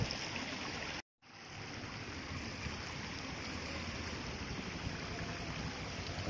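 Steady rushing rainwater pours and splashes continuously down over bare rock after heavy rain, a broad even roar broken by one brief silent cut near the start.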